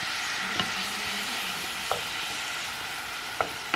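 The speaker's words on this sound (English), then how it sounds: "I'm going to put in the tomatoes and the peppers and the basil, and I'm going to let that all simmer down" Tomatoes, peppers and basil simmer and sizzle in a pan for a chili goulash, a steady close frying hiss with three faint clicks from a utensil spaced through it, no voices.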